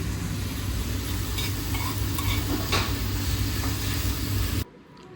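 Leafy greens tempered with spices sizzle and fry steadily in a pan, with light stirring and the clink of utensils close by. The sizzle stays loud and constant, then cuts off abruptly near the end.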